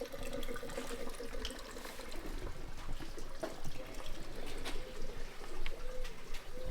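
Fuel trickles and splashes steadily as it is poured into the tank of a barn-find Mazda RX-7, a continuous liquid pour heard close over faint background noise.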